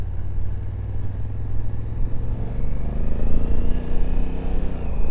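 A 2024 Honda Africa Twin DCT adventure motorcycle, a big, heavy machine with an automatic dual-clutch gearbox and a 100 horsepower engine, runs steadily while being ridden, with a continuous loud low drone and some wind noise.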